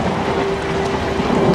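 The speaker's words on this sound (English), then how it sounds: "It's raining, that'll cool me off." Rain in the horror video game Outlast pours in a loud, unbroken hiss, with a low rolling rumble of thunder underneath and no voices.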